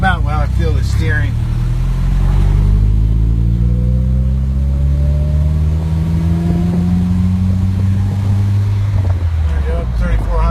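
A 1961 Triumph TR3B engine revs and climbs steadily in pitch to about 3400 rpm on a road, its harmonics rising smoothly over several seconds, loud and close, with brief talk at the start and end.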